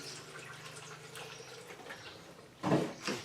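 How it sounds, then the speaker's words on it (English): Water splashes briefly into a container holding an apple rye whiskey mash near the end, after a low background hum. "I'll just put a little bit of water in there."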